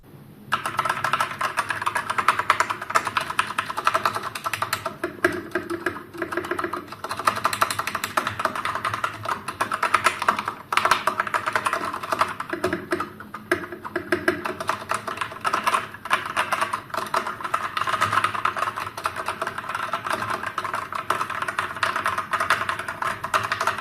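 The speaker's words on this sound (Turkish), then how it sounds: "Bakalım tuşların sesi nasıl çıkıyor?" Typing on a GamePower Sense RGB wireless mechanical gaming keyboard with red switches, a steady run of close, dense keystroke clicks and clacks lasting throughout with no talking.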